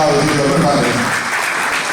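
A ceremony audience applauds steadily as the Kuşadası mayor is called up to receive a tourism sector investment award at the Aegean awards, the dense clapping filling the room while an announcer's voice carries over it at the start.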